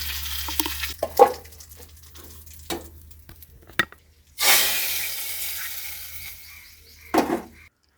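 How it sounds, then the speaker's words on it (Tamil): Mustard seeds, curry leaves and broken dried chili hit hot oil for tempering dal, with scattered clicks and knocks followed by a loud hissing sizzle burst midway and another short flare near the end. "இப்போ நாம் பருப்பை கொஞ்சம் தாளிக்க போகிறோம். கொஞ்சம் கடுகு போடுறேன்."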